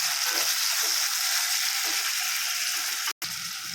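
Tomatoes for chicken biryani sauté in a pan, a continuous close sizzle with faint rhythmic stirring scrapes and a momentary cut near the end.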